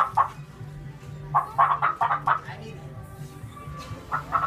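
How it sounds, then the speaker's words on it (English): Chickens cluck in short repeated bursts nearby, with quiet background murmur between the calls. "Chickens."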